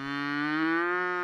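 A cow on a small family-run cattle ranch lets out one long, loud, steady moo close by, a rich, sustained low call with no other sounds.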